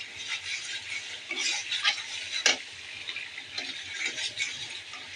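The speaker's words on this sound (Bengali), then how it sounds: "বিরিয়ানি মশলাটা ভালো করে কষাচ্ছি।" Biryani masala frying in a pan with a light, crackling sizzle, broken by irregular scraping and tapping as a spoon stirs it, close and fairly quiet.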